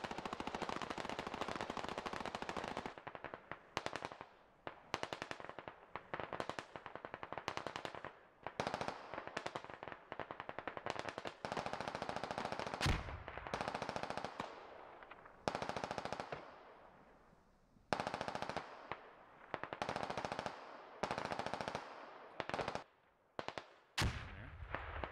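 Sustained automatic machine gun fire in the military shooter game Squad comes in long loud bursts separated by short pauses, with some rounds sounding nearer and sharper than others.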